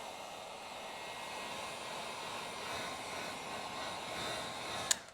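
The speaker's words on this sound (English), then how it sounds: "Now I'm gonna go ahead and I'm going to heat up the vinyl." Heat gun warming vinyl tint film on a car tail light, a steady airy blowing hiss held evenly throughout with a brief click near the end.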